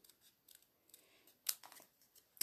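Scissors roughly cutting paper for a small Santa treat craft: a series of faint, close snips and crisp slicing strokes, ending in a couple of sharper cuts, with no speech.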